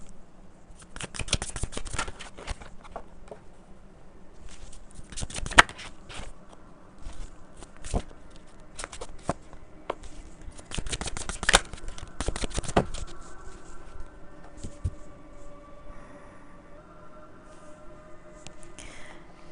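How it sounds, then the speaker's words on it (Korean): Tarot cards being shuffled and drawn at close range, a run of quick crisp riffling bursts and light slaps of card stock followed by softer handling sounds, with no voices. "타로 카드 뽑아보도록 할게요"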